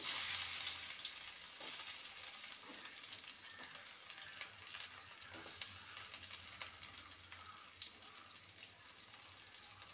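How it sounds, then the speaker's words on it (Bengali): Sliced onions frying in mustard oil in a pan for a spicy okra dish, giving a steady close sizzle with soft crackles and occasional stirring scrapes throughout, with no talking. "পেঁয়াজটাকে হালকা ভেজে নেব"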